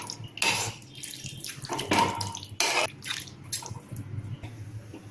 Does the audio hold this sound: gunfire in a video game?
no